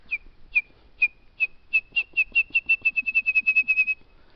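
A person whistles an imitation of a wrentit's call on a mountain fire road: a few spaced high notes that speed up into a quick bouncing trill, like a dropped ping-pong ball, alone and clear.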